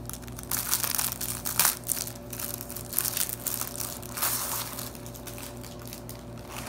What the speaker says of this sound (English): I will unwrap it. So it's plastic